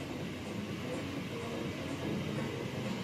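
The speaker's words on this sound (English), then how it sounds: "Very strong wind." Hurricane-force wind roars around a house in central Batumi, a loud, continuous broadband rush with a rumbling low end that holds steady for the full few seconds, with no distinct blows against the wall standing out and no talking.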